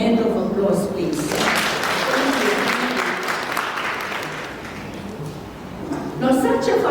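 Audience applause at an alumni association networking breakfast, a steady wash of clapping lasting several seconds, with someone speaking just before it starts and again as it ends.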